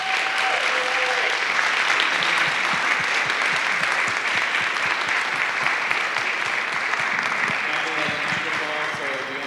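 A round of applause from a seated audience at a health and energy justice event honoring Dr. Hernandez, sustained and fairly close, with a few voices talking faintly beneath the clapping.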